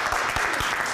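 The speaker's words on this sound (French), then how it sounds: "Applaudissez-le." An audience at an improv evening applauds a poem, a short, dense burst of clapping heard for under a second with a few low thumps underneath.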